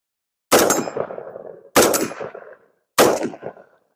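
Three loud, separate rifle shots fired while aiming through a Vector Optics Paragon 4x prism scope, each a sharp crack followed by a decaying echo, spaced about a second and a quarter apart with silence in between.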